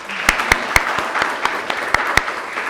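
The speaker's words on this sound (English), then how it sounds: "Round of applause for yourselves." An audience applauds, giving a brief burst of sharp, uneven claps with a few louder hand strikes standing out from a softer patter.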